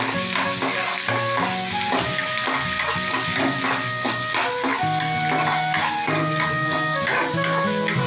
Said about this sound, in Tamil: போட்டு நல்லா வதக்கிக்கிறோம்.